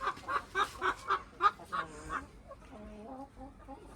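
Chickens cluck close by in a quick run of short, rhythmic clucks that trail off into softer, drawn-out calls.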